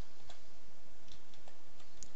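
Computer keyboard typing, a run of light, sparse key clicks at an uneven pace, quiet and close against a steady hum.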